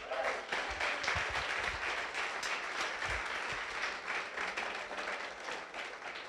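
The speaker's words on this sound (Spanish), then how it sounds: "Un aplauso al Señor." A church congregation applauds during a Spanish-language sermon, a steady mid-level clapping wash lasting several seconds with faint scattered voices underneath.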